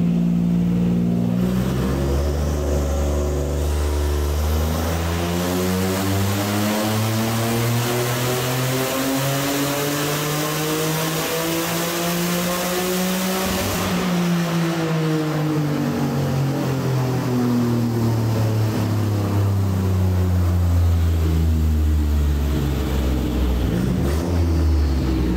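A tuned Toyota GR Yaris on the move, its engine rising through rev sweeps that peak, drop away, then climb again, with a loud, close, continuous drone and no talk.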